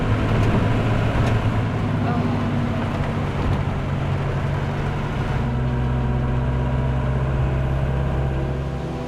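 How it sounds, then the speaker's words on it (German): A car rumbles over a highway bridge overhead with a low, steady roar, the sound shifting partway through, mixed with the patter of rain, heard from beneath the bridge in Oman. "man hört natürlich, wenn da ein Auto rüberfährt, man hört den Regen"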